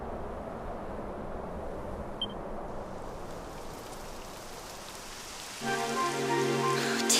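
Steady rain falls in the Dragon Quest XI video game, a soft continuous hiss that builds louder near the end as a brighter tonal layer joins in.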